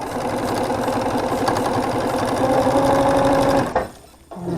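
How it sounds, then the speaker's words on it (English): Sewing machine stitching small pieces of a chocolate-dipped strawberry quilt block, running as a fast, steady mechanical whir for several seconds before stopping abruptly, close by. "then we'll sew these together"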